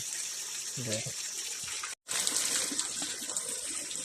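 Water gushes steadily from stone spouts at the Nine Spouts in Godawari, Lalitpur, in a continuous splashing rush, with a brief voice heard early and a short cut midway.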